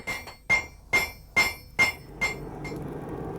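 A blacksmith hammers grooves into the faces to be welded on a hand-forged farm tool called a laya, five ringing metallic strikes in an even rhythm followed by a softer sixth, close and distinct.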